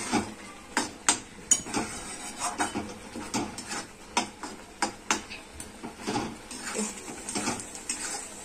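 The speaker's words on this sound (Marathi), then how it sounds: "खाली लागत नाही म्हणून आपल्याला सारखं हलवत राहायचं ते।" Spoon stirring a thickening ginger syrup in a pan on the stove, with regular scraping and tapping strokes about once a second, close and fairly quiet, a faint sizzle underneath.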